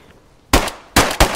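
Three sharp, loud gunshots from the video game DayZ, fired during a wolf encounter, the first alone and the last two close together, each with a short echoing tail.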